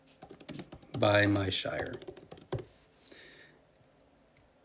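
Rapid clicking of a computer keyboard as a search is typed, close and fairly loud, with a person talking over part of it.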